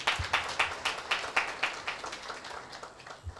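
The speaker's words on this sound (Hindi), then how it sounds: "इसे परमेश्वर के लिए जोरदार ताली देते हैं" Church congregation clapping loudly in a fast, even rhythm of roughly four claps per second, the beats blurring as they go and tapering off near the end.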